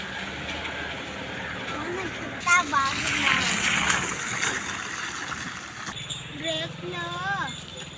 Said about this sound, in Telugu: వాన పడుతూనే ఉందమ్మా.